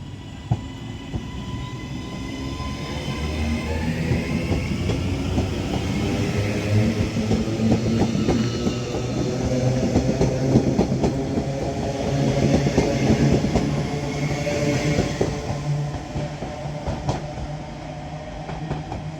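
A Northern Class 331 electric multiple unit departs Wigan North Western station on a service to Liverpool Lime Street. A steady close rumble builds, with rhythmic wheel clicks and faint rail squeal, and no one speaks.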